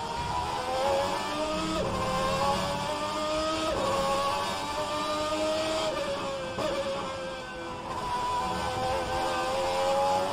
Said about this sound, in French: Le son du V12 est très présent.